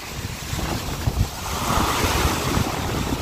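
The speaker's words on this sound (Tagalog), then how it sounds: "Ibang iba talagang dagat sa Balayan, Batangas, Barangay Nyugan. Walang ka tigating ang alon." Calm sea at Barangay Nyugan in Balayan, Batangas, with small waves washing in a soft, steady rush, partly covered by gusting wind buffeting the microphone.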